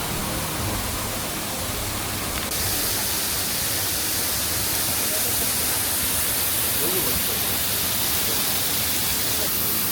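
Water thundering down behind a large waterfall in Guizhou, China, heard from a cave passage behind the falling curtain: a loud, steady, unbroken roar of spray and rushing water with no pauses, close and enveloping throughout.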